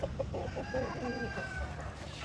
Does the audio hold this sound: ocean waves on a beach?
no